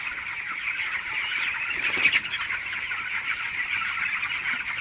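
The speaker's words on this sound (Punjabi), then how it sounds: "ਹੁਣ ਸਾਡੇ ਮੁਰਗੇ ਬਹੁਤ ਦਾਣਾ ਖਾਂਦੇ ਆ" A flock of chickens clucks and murmurs softly and continuously nearby while eating grain, with a brief louder squawk partway through.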